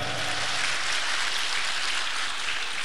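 A crowd claps steadily and densely for a children's performance at a school annual function in Chirang, Assam. The applause is loud and unbroken throughout, with no voices standing out.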